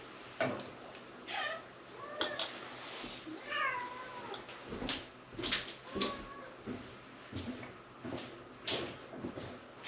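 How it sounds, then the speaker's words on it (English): Several short, rising cat meows repeat through steady background noise with a few soft clicks and knocks. "You might hear the cat in the background."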